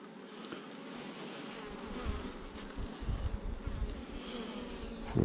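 Honeybees buzzing around a hive colony in spring, a dense close droning hum with individual bees passing near, the level rising and falling slightly.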